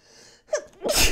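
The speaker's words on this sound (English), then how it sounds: "I have a sneeze." A single sharp sneeze from one person, preceded by a brief inhale, close and loud, with no other sound around it.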